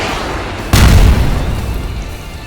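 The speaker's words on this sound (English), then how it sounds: "Its wings point forward as the red missiles at their tips fire." A missile explosion from a combat robot in an action audio drama: a sudden loud boom after a brief low rumble, decaying into a sustained roaring tail.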